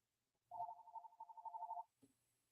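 A telephone rings once, unanswered, from an unwanted sales call: a quiet, warbling electronic burst lasting over a second, then a faint click in an otherwise still room.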